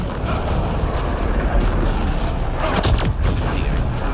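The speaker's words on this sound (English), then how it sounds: "An explosion!" A loud explosion in the video game Mass Effect Andromeda rumbles within dense, continuous combat noise of gunfire and crackling debris, with sharp bursts near the end.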